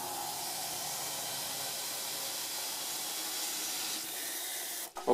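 Water runs from a tap for cleaning a GP5 gas mask, making a steady, soft hiss that continues unchanged before a brief clatter at the end.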